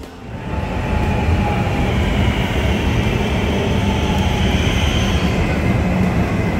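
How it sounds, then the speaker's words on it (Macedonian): A passenger train runs toward Manarola in Italy's Cinque Terre, a steady, loud rolling rumble with a faint high whine that holds for the whole stretch, no talk over it. "ние со воз продолжуваме кон Manarola"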